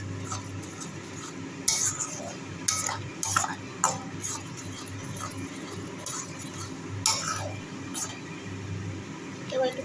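A spoon stirs vegetables with turmeric in a sizzling pan, scraping and clinking against the metal in irregular strokes over a steady fry, with a voice talking at times.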